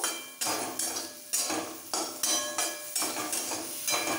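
Fried eggplant and crisp fried neem leaves are tossed together in a pan, a spatula scraping and clinking against the metal in a steady rhythm of strokes, close up and with no talking.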